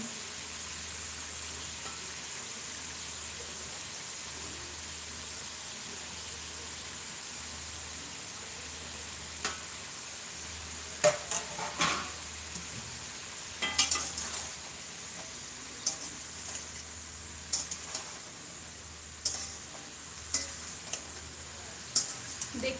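Duck meat sizzles steadily in a pan with tomato, ginger and garlic during village-style cooking, a constant low frying hiss broken by occasional sharp clinks and stirring scrapes from the utensil.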